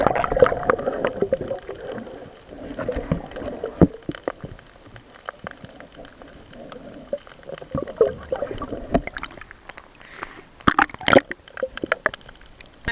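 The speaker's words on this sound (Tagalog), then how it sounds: "Sobrang laki yung kasama namin na alon." Big sea waves slosh and splash around a small fishing boat out at sea, irregular watery bursts and knocks close by, growing choppier toward the end with a few sharp splashes.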